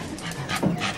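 A sniffer dog pants close by in quick, breathy puffs for about a second, with no talking.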